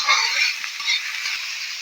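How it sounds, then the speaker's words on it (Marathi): Wild foraged vegetables, bharangi and akur, frying in a pan, a bright continuous sizzle with light stirring scrapes, close and fairly loud throughout. "मस्त घेऊन फ्राय करून घ्यायचं आहे"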